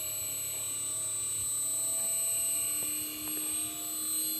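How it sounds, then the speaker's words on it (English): The outdoor compressor of a 2.5 hp LG split inverter air conditioner runs with a steady, moderately loud mechanical hum and tonal whine, holding even apart from a couple of faint clicks, with no talk. "so this is the compressor."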